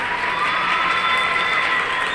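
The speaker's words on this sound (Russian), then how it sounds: "Выбежали все на балкон. Все сидят дома. Посмотрите, хлопают все." Neighbours in Turkey clap from their apartment balconies for medical staff, a steady wash of dense, continuous applause and faint cheering spread across the surrounding buildings, with no pause through the whole stretch.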